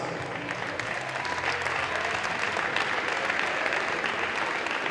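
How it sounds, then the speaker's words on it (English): An audience at a university sports final medal ceremony applauds the event's supporters and volunteers, producing steady, dense clapping throughout that is loud and close, with a faint murmur of voices underneath. "Let's give them all a round of applause"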